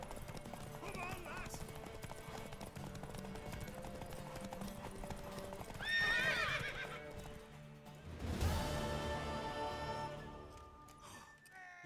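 In The Witcher 3 video game, hooves pound in a fast rhythm while a horse whinnies loudly, with music and voices mixed underneath.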